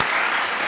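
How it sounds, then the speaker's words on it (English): A short burst of clapping and cheering from a crowd, brief and fairly loud, with a small thump near the end. "We need a round of applause for that one,"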